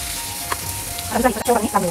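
Bangda (mackerel) fish pan frying in oil on a tava, a close, steady sizzle that grows louder and crackles more toward the end, with a sharp clink partway through.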